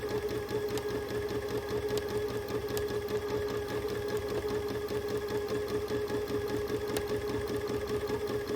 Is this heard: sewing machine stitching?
yes